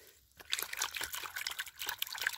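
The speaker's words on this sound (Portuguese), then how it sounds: "lava-se aqui na água" Water splashing and trickling as a prickly pear fig is rinsed by hand, a near, irregular run of small splashes and drips lasting a couple of seconds with no talk.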